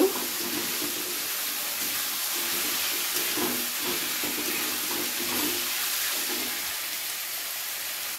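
Garlic, ginger and green chili fry in hot oil, giving a steady, soft, continuous hiss with faint crackle that stays even and close throughout, with no voices.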